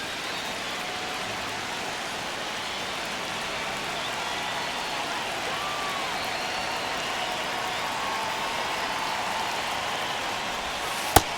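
A crowd at an MLB ballpark during a tight ninth inning of Astros versus Cardinals gives off a steady, broad murmur like distant rain, with one sharp knock near the end.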